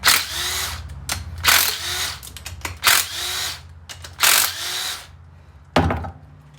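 A power tool, likely an impact driver, loosens the 10 mm rocker arm fasteners on a Polaris Ranger 700 engine in five short, loud bursts with brief pauses between, close by.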